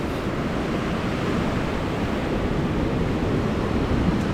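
Ocean surf washing onto a Florida beach, a steady broadband rush of breaking water that swells slightly toward the end, close and fairly loud with no voices over it.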